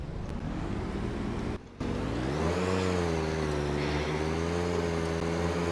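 A restored VAZ-2103 Zhiguli car on a test drive, its engine droning steadily with a brief drop during a gear change, then pitch rising smoothly as it accelerates along a straight stretch.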